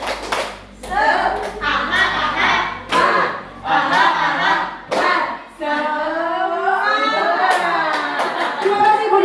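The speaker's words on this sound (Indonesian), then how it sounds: "Tepuk semangat." A group of teachers performs a rhythmic clapping chant, with bursts of synchronized claps alternating with shouted chanting voices, loud and close, ending in a spoken exchange.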